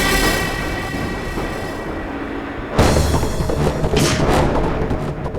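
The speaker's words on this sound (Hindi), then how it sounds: "सर वहां से चलाओ जहाँ भैरवी गोली चला रही है" Gunfire from a TV drama played back on a screen, heard as a dense, loud barrage of booming shots with a sharp burst of reports partway through, no voices over it.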